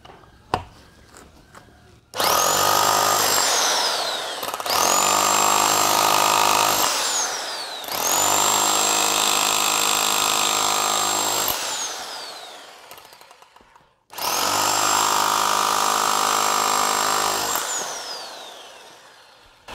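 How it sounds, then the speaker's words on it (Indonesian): An INGCO RH18008 rotary hammer chisels in chisel mode, running as four long, loud, steady hammering bursts with short pauses between, each start rising to a harsh rattling whine that cuts off sharply. "ini tidak pakai pahat bobok yang runcing dan modenya ini saya ganti ke bobok"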